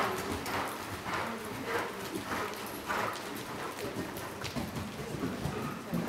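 A horse canters in show-jumping training, its hoofbeats thudding in a steady three-beat rhythm on the arena surface, close and clear, with a trainer's voice heard now and then.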